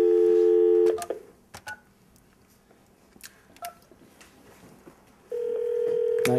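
A telephone rings with steady tones in the opening second, then a few sharp clicks and faint handling noises follow before the ringing returns loud and even near the end.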